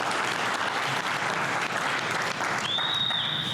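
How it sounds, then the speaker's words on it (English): An audience claps loudly and steadily, a dense, even burst of applause that holds throughout, with a thin high whistle-like tone rising near the end. "can we get a round of applause for Chris and Perform Better?"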